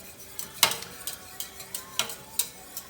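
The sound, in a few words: whisking grits into boiling cream and turkey broth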